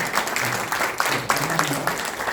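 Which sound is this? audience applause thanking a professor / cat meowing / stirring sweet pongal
audience applause thanking a professor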